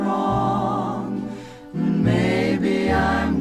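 A song plays from a vinyl record, a sustained orchestral passage with a held melody and shifting chords, steady and fairly loud with no talk.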